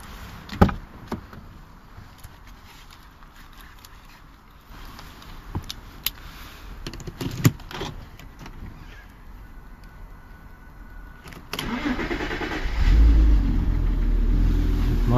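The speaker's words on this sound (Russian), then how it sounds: "Машина завелась." A Porsche Cayenne is started in a workshop: after scattered clicks and knocks, the engine catches near the end and settles into a loud, steady idle.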